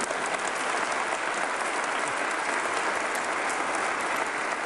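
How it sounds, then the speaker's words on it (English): Sustained applause from a large audience at a State of the State address, dense steady clapping filling the whole stretch without pause. "Now you can clap."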